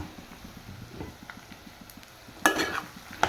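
A spoon stirs prawn curry in a pan after chili powder is added, giving soft, steady scraping strokes over a low sizzle, with a couple of sharper clinks of utensil against the pan near the end.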